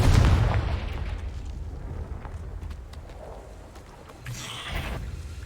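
A Confringo fire blast spell explodes in the Hogwarts Legacy video game: a loud, booming burst up front, a rumbling crackle trailing off, then a second blast near the end. No one speaks.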